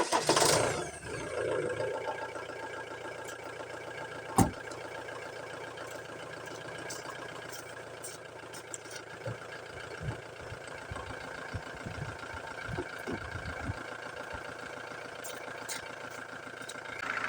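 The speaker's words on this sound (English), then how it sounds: "Now I will start the engine and you can hear how it sounds." A Ford Transit MK7 2.2 TDCi diesel van cranks and fires up, then settles into a steady idle with a rough, uneven rumble and occasional small knocks, recorded close with no talking.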